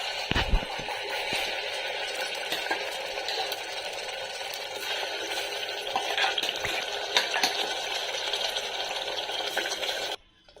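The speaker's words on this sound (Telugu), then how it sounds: "ఈ ఆనియన్ పేస్ట్ని కొంచెంసేపు వేగనివ్వాలండి" Onion paste with green chillies frying in two spoons of oil in a pressure cooker, a steady close sizzle with occasional stirring scrapes, continuous until it cuts off at the end.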